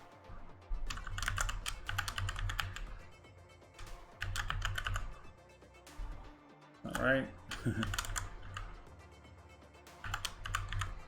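Typing on a computer keyboard while entering details into an Android wallet app, with steady bursts of key clicks and a short pause midway, under someone talking.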